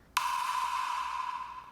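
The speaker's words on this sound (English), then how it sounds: "Oh, also we have like a reverb pluck." A synth pluck drenched in reverb, used as a drum-kit element in electronic music production, strikes once as a bright plucked note whose long washy tail decays slowly. It sounds alone, with no voices.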